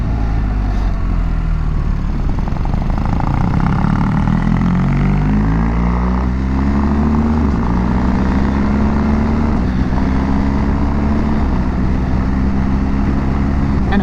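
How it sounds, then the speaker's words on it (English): A boxer twin two-cylinder motorcycle engine, a BMW-style bike with the flat-twin layout, runs steadily close by, its low throbbing note rising and falling smoothly as revs climb without jerkiness, continuous and loud throughout. "Boxer engine, 2 cylinders, so flexible, and this is very flexible, you know, it pulls from no revs up, there's no jerkiness"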